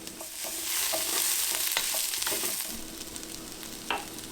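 Bell peppers and garlic frying in a pan, a continuous close sizzle with scattered pops and occasional stirring scrapes.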